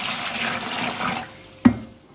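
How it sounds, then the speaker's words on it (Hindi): Water pours steadily into a pet shark fish's bowl for over a second, then stops, followed by a single sharp splash or knock and quiet. "पानी और डालना पड़ना है, पानी काफ़ी कम है, पानी इसमें से डाल।"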